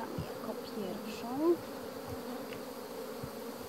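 Honeybees hum steadily at an opened hive while the frames are sifted in search of the queen, a dense, even drone with individual bees buzzing close past and a few soft knocks.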